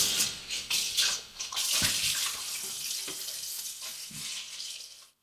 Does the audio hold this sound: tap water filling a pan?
yes